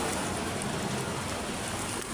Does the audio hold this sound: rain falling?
yes